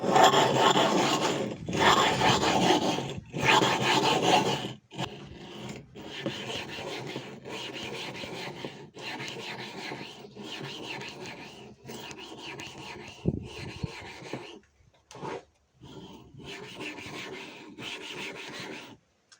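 Rough, rasping grinding strokes of glass on glass with gritty abrasive, rough-grinding a homemade telescope mirror, repeated in steady back-and-forth bursts, close up with brief pauses.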